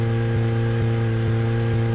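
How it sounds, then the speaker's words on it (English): A police car engine in a video game drones at a constant pitch with a steady hum and soft, evenly spaced pulses, sounding thin and buzzy with no other sounds over it. "You telling me a police car doesn't sound like this?"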